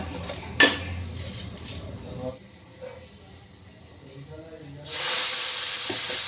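Fenugreek leaves dropped into hot mustard oil give a steady hiss, with clinking pan and utensil sounds, a sharp clatter early on, and a louder burst of sizzling near the end.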